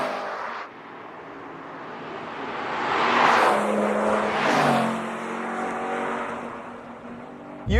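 A BMW M car engine drones steadily, then swells into a louder rushing roar as the car drives past, with road and wind noise before it fades back.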